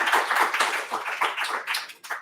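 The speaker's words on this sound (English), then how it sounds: "Love to give you a round of applause." A small audience claps at a startup conference session, uneven and fairly close, thinning out toward the end.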